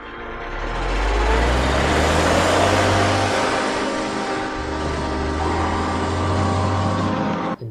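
A truck drives past with a heavy, close engine rumble that swells and then eases, with deep low-end droning throughout.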